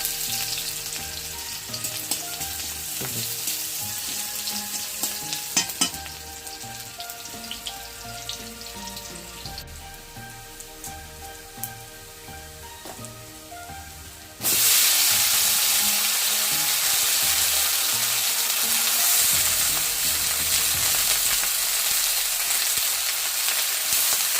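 Onions dropped into hot oil for a fish curry, a loud steady sizzle with scattered crackles and stirring clatter, swelling into a stronger, denser hiss partway through.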